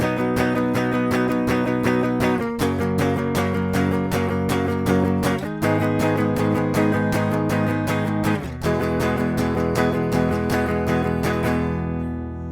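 An acoustic guitar strums the chord progression of a song, with steady rhythmic strokes and a few chord changes, played solo and close.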